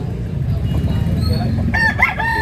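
A rooster crows once, a bright rising-then-falling call breaking out near the end of a short stretch of low, muffled background chatter and handling noise, close and clear.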